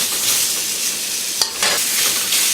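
Papaya slices sear in an oiled wok with a loud, dense, continuous sizzle up close, broken by one brief clack of a utensil partway through.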